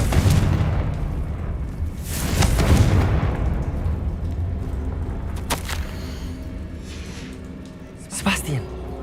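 A Confringo fire spell explodes in Hogwarts Legacy on Xbox; several deep booms roll out over a rumbling game backdrop, with a voice also present.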